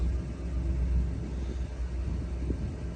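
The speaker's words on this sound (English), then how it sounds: "God, that car sounds so nice." A 1958 Ford F100 pickup truck engine runs steadily with a low, continuous rumble, fairly loud and close, with no talking over it.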